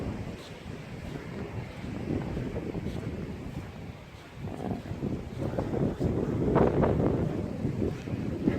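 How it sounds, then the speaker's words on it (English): Gusty wind in Hua Hin, Thailand, buffets the microphone with a low, rumbling roar that swells and eases in waves, loud and close, with no talking. "It's a windy day."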